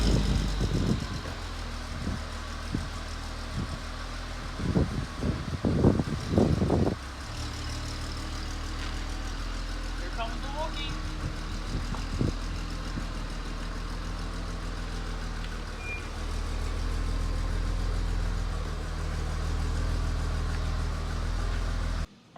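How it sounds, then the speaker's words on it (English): A VW R32 engine runs at a steady idle close by, with a few sharp knocks and thumps early on, then settles into a continuous, even rumble. "Let's start it up and let's take it up and down the driveway."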